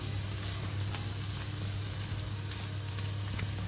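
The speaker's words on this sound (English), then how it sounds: "So just let that fry for a little bit, stirring it occasionally before I add anything else." Stir fry sizzling in a pan with prawns cooking nearby: a steady, close frying hiss runs throughout, with a few faint scrapes from occasional stirring and no speech.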